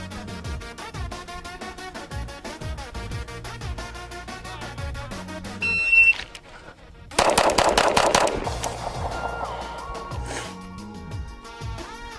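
A SIG P365 pistol fires quick strings of loud shots in a bill drill, a rapid burst, a pause with reload clatter, then another dense burst with ringing echoes on an outdoor range.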